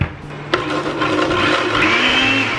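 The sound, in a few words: blender blending cilantro, peppers and onions sauce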